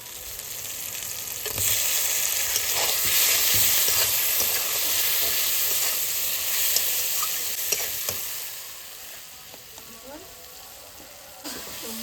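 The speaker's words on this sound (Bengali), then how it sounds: "এবার আমি টমেটোটা দিয়ে দেবো" Tomatoes tipped into a pan of chicken masala set off a loud, steady sizzle and hiss of frying that gradually eases, with a few scrapes and clinks of stirring near the end.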